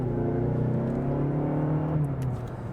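A 2021 Mazda6 front-wheel-drive sedan with a 6-speed automatic accelerates hard, its engine droning loud and close as the pitch climbs steadily, then eases near the end.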